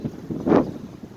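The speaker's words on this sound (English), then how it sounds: "as you can see, it's very windy today." A strong wind blows outdoors beside a plum tree, buffeting the microphone in a brief rumbling gust that swells and fades within about a second.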